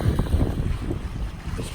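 Rough Mississippi River water churned by waves, boat wakes and whitecaps while paddling, a steady loud rumble of wind buffeting the microphone over sloshing water, with no clear voices.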